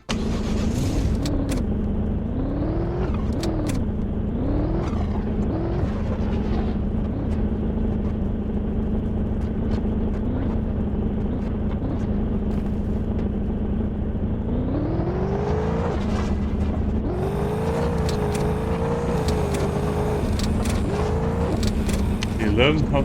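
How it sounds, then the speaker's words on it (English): Car engine in the Zed Zone zombie survival video game, one of the slowest cars, droning steadily with repeated rising and falling rev sweeps as it accelerates and shifts, while a person talks over it. "I think this is the slowest car."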